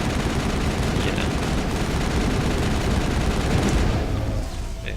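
Sustained gunfire and laser blasts from the Mass Effect trilogy, a dense unbroken rumble of rapid shots with a few sharper zaps, fading slightly in the final moment.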